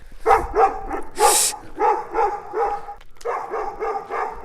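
A dog barks repeatedly in quick bursts, close by, with a short pause midway before the barking resumes.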